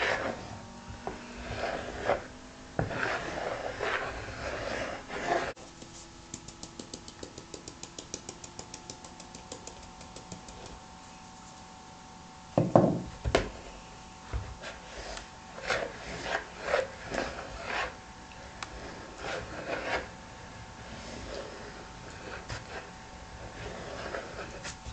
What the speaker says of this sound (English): try stirring it slowly and that will help the spoon go through it more easily